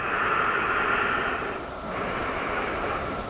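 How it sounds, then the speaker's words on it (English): A person breathes during a yoga session, drawing a long airy breath that dips briefly before a steady, breathy exhale, close and fairly loud with no talking. "Take a breath in, and exhale, fold forwards."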